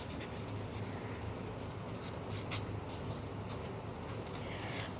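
Pen scratching across paper while a Class 10 trigonometry solution is written out, a steady run of close, quiet strokes and ticks over a constant background hiss.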